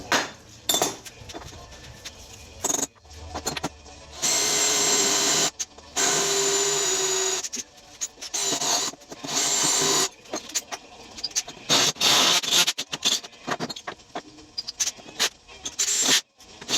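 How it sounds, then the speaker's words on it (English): A power drill bores a hole for mounting an RV light bar, whirring in several loud, uneven bursts separated by short pauses, with some clinking of tools in between. "let me get started on drilling all that"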